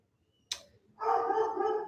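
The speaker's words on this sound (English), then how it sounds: "My dog's losing his mind right now." A dog lets out one sharp, close bark, then follows with a longer, whining bark-howl after a short pause, loud against otherwise quiet surroundings.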